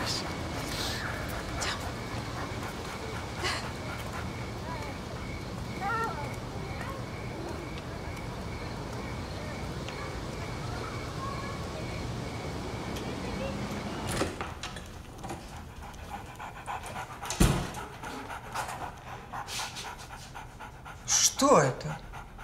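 A dog pants steadily and close up throughout, with faint whimpers mixed in, then a louder thump or door-like knock and some rustling toward the end.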